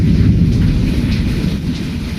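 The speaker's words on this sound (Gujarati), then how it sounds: "આ જોવો તમે વીજળીના કડાકા ભડાકા જોવો" Heavy monsoon rain pours during the first storm of the season in Morbi, a loud continuous roar with deep rumbling thunder rolling underneath throughout, no voices present.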